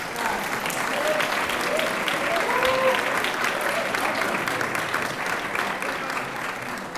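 Sustained applause from an audience at the U.S. Conference of Mayors greets former Mesa, Arizona mayor Scott Smith, a dense, steady wash of many hands clapping that holds evenly for several seconds, with faint voices mixed in.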